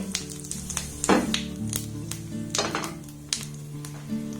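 Whole cumin seeds sizzle in a little hot mustard oil in a frying pan, a steady close crackle with a few sharper spits and faint utensil clinks.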